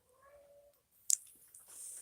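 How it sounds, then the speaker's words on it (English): Pet cat meowing indoors: a short tonal meow near the start, then a sharp click and some faint rustling, close and fairly quiet with no talk. "my cat's meowing"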